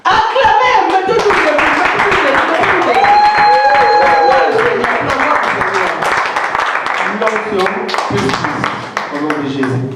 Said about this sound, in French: Si on peut acclamer pour Jésus.